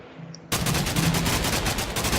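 A wood-and-metal gun with a 100-round magazine fires in a Minecraft mod, starting abruptly after a quiet moment and then pouring out a loud, steady, rapid stream of shots that runs to the end.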